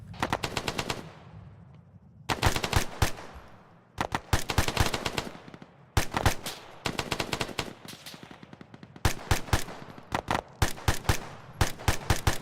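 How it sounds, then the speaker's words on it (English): Rifle fire in Arma 3, with a section shooting into white smoke during training: repeated loud bursts of rapid automatic shots with short pauses between them, each burst ringing out with echoing tails and no talking. "Alright, Charlie, keep firing into the white smoke."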